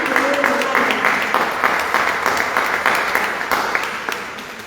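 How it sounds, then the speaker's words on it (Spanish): Audience applause at a Catholic religious talk on exorcisms, a steady roar of many hands clapping that carries through the whole stretch and slowly thins toward the end. "Vamos a darle un fuerte aplauso a María Santísima."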